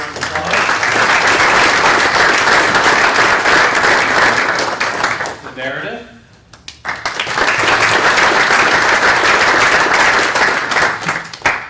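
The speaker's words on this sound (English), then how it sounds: "How about a round of applause?" An audience at a business-school executive ethics symposium gives sustained, loud applause that breaks briefly while a voice speaks, then resumes strongly for several more seconds.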